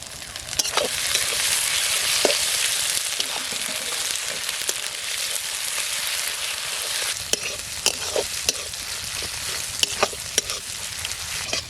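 Ginger garlic paste and green chilli fry in a pan with a steady, bright sizzle throughout, and occasional stirring clicks and scrapes stand out more toward the end, loud and close, with no talking.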